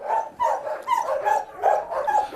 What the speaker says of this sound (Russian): Это восточно-сибирская лайка